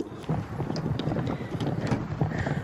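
Horses shuffle and clop around close by at feeding time, hooves knocking in a steady, uneven patter with light wind across the microphone.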